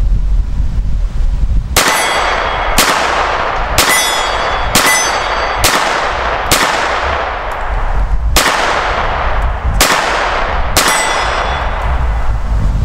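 A World War 2 CZ-27 pistol is fired at an outdoor range, about nine sharp, loud shots spaced roughly a second apart, each with a short ringing decay, and no talking.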